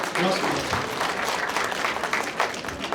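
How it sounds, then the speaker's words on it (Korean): Audience applause at a Korean hometown association gathering in a convention hall, a steady, dense wash of clapping lasting a few seconds with some voices mixed in. "다시 한번 두 분께 뜨거운 박수로 보내주시기 부탁드리겠습니다"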